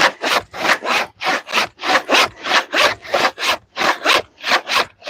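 A hand saw cuts through wood in fast, even back-and-forth strokes, about two per second, each stroke a loud close rasp with short gaps between them.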